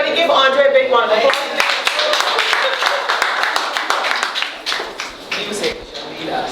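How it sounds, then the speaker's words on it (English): An audience claps and cheers for Andre at a media launch for the Deaf Calypso Project in Barbados, a dense, steady burst of applause that carries through the whole stretch and thins slightly toward the end. "Everybody give Andre a big one of applause."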